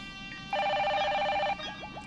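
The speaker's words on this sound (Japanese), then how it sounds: "その時不意電話が鳴った。" A telephone rings with one sustained electronic trill lasting about a second in the detective video game Jinguji Saburo, followed by a few faint chirps.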